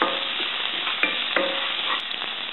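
Green chili and ginger sizzle in hot oil with cumin seeds as a spoon stirs them around the pan, giving a steady frying hiss broken by a few sharp scraping clicks, close and alone.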